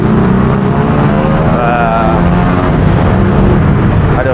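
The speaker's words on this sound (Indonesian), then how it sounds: "suara Pak biasa knalpot motor" Motorcycle exhaust roaring on a busy Jakarta city street, loud, close and continuous, with engine drone and a rising rev partway through amid general traffic noise.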